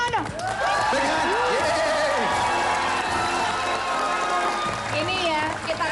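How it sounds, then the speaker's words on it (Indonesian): Audience clapping and cheering at a live television game-show taping, a sustained crowd roar mixed with whoops, with a presenter speaking over it. "Jadi tepuk tangan. Big hand."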